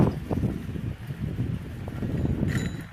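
Steady low rumbling wind of a Kalbaishakhi (nor'wester) storm buffeting the microphone, continuous and fairly loud throughout with no voices.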